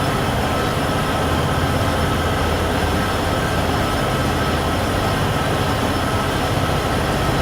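A freight train hauling double-stack cars rolls past in the Train Sim World 6 game on the Cheyenne–Laramie line, a loud, continuous broadband rumble and roar with a faint high whine, steady throughout with no voices.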